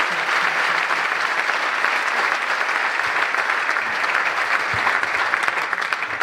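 A church congregation at a Friday worship service in Foundiougne applauding and cheering as pastors are invited forward, loud continuous clapping with crowd noise, sustained and close.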